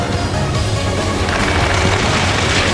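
Gunfire during an Ace Combat 7 rescue mission, dense and continuous, with booming rattles layered over a steady roar of battle and no pauses across the stretch.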